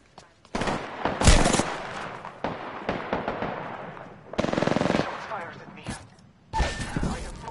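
In a video game, bursts of automatic gunfire aimed at the player crackle in loud, dense volleys with short gaps between them, close and harsh.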